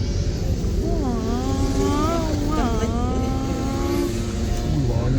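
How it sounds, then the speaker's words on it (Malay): Motorcycles pass at a busy nighttime road event in Malaysia, producing a continuous engine drone with several rising and falling revving whines, fairly loud, while people chatter underneath. "Banyak motor ni event ni man"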